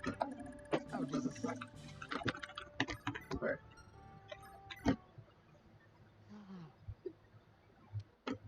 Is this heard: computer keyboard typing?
yes